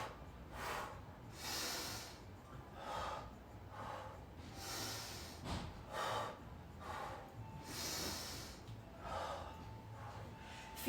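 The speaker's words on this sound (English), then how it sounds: "Inhale, exhale." Slow, rhythmic breathing during a pilates mat spine twist, heard up close: repeated airy inhales and exhales, each a soft hissing swell lasting about a second, evenly spaced and fairly quiet.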